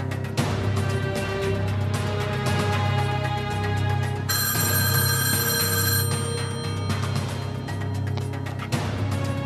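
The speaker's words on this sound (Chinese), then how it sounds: "我去给刘科长打电话" An old-style telephone rings insistently indoors, its bell repeating in steady bursts with no voices over it.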